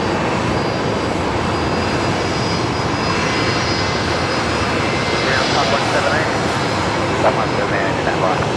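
A Fokker airliner's engine runs up at Brisbane Airport, a steady broad roar with a faint whine above it that holds throughout, heard from a distance in open air.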